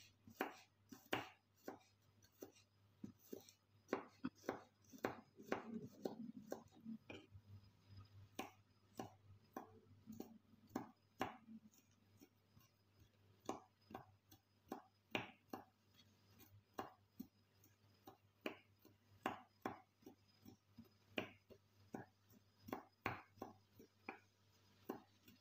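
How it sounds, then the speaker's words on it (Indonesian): Two garlic cloves being sliced small with a knife on a cutting board, a steady run of sharp, close chopping taps that goes on at an uneven rhythm, with no talking. "Ini ada bawang putih 2 siung. Kita iris"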